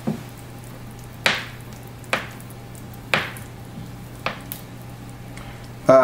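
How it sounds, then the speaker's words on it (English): Butter dropped into very hot caramel for a tarte tatin crackles and spits in several sharp bursts that each fade quickly, about five pops spaced a second apart over a low steady hum, close and fairly loud. "Go ahead and add your butter."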